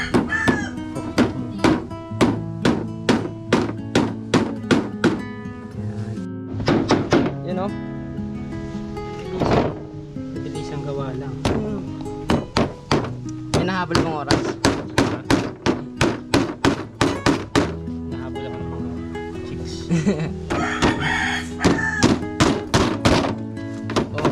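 Nails are hammered by hand into wood along an edge, with repeated sharp thunking blows in quick rhythmic runs and short pauses, close by, while people talk in between.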